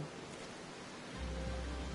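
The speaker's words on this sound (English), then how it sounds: "And it's raining." Rain falls steadily in Drybone in Final Fantasy XIV, a soft continuous hiss that thickens and grows slightly louder partway through.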